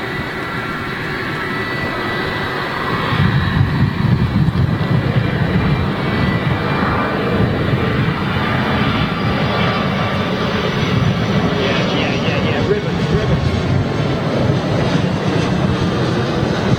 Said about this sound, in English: Listen to those RB211s, folks.